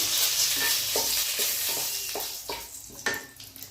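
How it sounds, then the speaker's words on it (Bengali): Four medium bay leaves hitting hot oil, a steady sizzle broken by a series of soft stirring scrapes and small crackles at a loose rhythm. "তেলে দিলাম চারটে মাঝারি সাইজের তেজপাতা"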